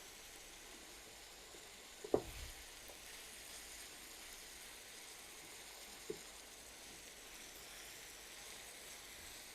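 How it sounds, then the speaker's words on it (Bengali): Potatoes frying in a pan, a soft steady sizzle with a couple of brief knocks from stirring, quiet and close, without speech. "আলুটা 2 মিনিট মতন ভেজে নিলাম।"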